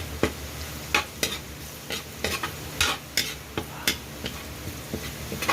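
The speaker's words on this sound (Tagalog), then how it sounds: "Gisahin lang natin ang mga ricado hanggang sa ang bango." Garlic and ginger sautéing in a pan at home, a steady sizzle broken by repeated sharp scrapes and clacks of a spatula stirring, close and fairly loud, with no talk.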